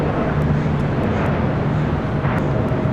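A China Southern Cargo Boeing 777 freighter at LAX gives a loud, steady jet engine roar that holds constant throughout with no voices over it.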